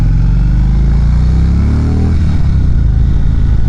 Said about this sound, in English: I will say though that I do like the sound of these new Indians better than the sound of the